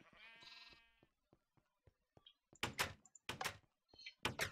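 Sheep in Minecraft bleat several times, with a long wavering bleat at the start, then short thumps and a burst of loud, harsh bleats near the end.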